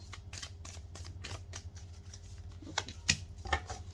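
Tarot cards are shuffled by hand up close, with a quick series of soft riffling flicks and slaps that grow sharper and louder toward the end.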